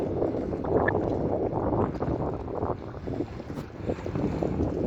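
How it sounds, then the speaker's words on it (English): A strong offshore wind buffets the microphone on a Fuerteventura beach in the Canary Islands, a steady loud rumbling roar with gusty surges and no voices. "It's a bit strong offshore wind."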